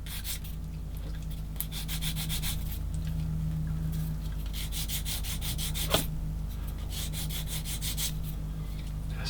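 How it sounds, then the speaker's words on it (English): Hand sanding glue residue off a plastic part of a 1/16 scale Takom M10 IIC Achilles tank destroyer model kit, using the finer side of a sanding pad; steady rhythmic rasping strokes, close and continuous, with no talk. "needs a bit sanding"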